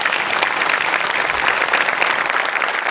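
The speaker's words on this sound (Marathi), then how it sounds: "त्यांच्याकरता आपण एकदा टाळ्या वाजवूया" An audience at a Marathi comedy show breaks into loud, sustained applause, dense clapping that carries evenly throughout with no talk over it.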